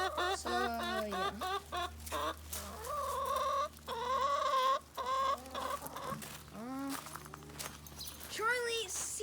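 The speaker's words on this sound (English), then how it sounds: "Can you leave the teenager chickens alone?" Young backyard chickens cluck and chatter nearby in overlapping squawks and trills, with a low steady hum underneath and a person speaking at moments.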